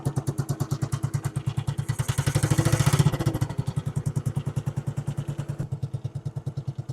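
Royal Enfield Bullet 500 single-cylinder engine running after a cold start, a steady rapid thumping idle close by that briefly swells in revs before settling back, with no talk.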